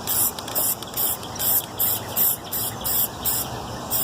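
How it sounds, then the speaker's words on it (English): A spray gun painting a car outdoors gives bursts of steady hiss, about eight roughly half-second pulses in a loose rhythm, moderately loud and close with no voices. "I can't right now because I already started spraying"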